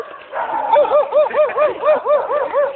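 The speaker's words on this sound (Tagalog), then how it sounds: "May aso." A dog barks repeatedly at night in a steady, even rhythm of about eight close, loud barks, with some faint background noise.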